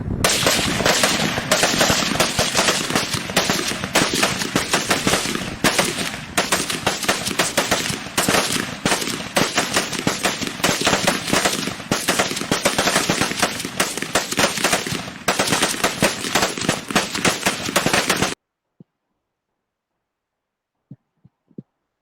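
Rifle fire at a firing range goes off on command in dense, rapid, loud volleys for most of the stretch, then stops abruptly, leaving near silence with a few faint isolated pops.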